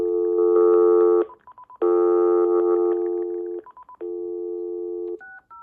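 A thrifted landline telephone on speakerphone: a loud steady dial tone, then several quick beeping button tones between long stretches of tone, ending in short two-pitch tones.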